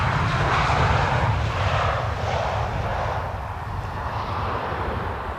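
Loud, broad roar of a Transavia airliner's thrust reversers on landing at Amsterdam Schiphol in a crosswind, a sustained wash of engine noise that swells early and then slowly eases, with wind buffeting the microphone.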